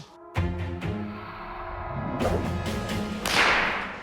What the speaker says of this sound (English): prove that the end of the whip breaks the speed of sound